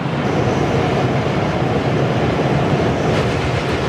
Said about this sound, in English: see the bullet train pass by